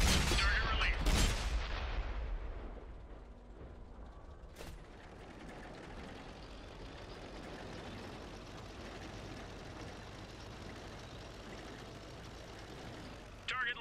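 A tank cannon firing in World of Tanks on Xbox 360 from a JagdTiger's 8.8 cm gun, a loud blast with echoing rumble, then a short sharp crack and a long low engine drone under game voices.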